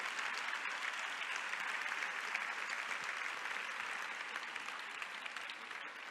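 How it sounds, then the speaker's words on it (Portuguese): A conference audience claps steadily in a long, even round of applause, softer and somewhat distant, dense and unbroken throughout without speech. "Os que ficarem em pé, uma salva de palmas"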